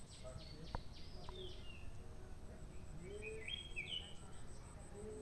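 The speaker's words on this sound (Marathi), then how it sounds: "पक्ष्यांचा आवाज पण मस्त येते." Birds chirp in the early morning outside a tent near Kelve beach. Several faint, scattered tweets and calls come from a distance against a quiet, noisy background.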